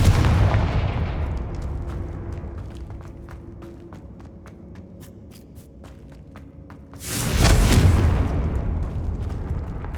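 A Confringo fire spell from the Hogwarts Legacy video game bursts in a heavy booming explosion, a rumbling tail fading before a second loud blast erupts near the end, with faint ticking in between.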